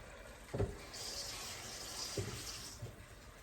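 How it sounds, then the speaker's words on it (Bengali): A short, faint splash of water pours into a pot of pomfret cooking for lunch, framed by a couple of soft knocks against the vessel. "একটু হালকা জল দিয়ে দিলাম"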